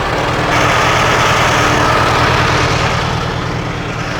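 A Farmall tractor engine runs steadily nearby, its carburetor in need of adjustment, giving a loud, continuous rough chugging with no break and no voices.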